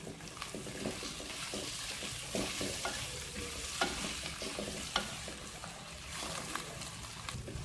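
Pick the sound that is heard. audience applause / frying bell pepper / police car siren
frying bell pepper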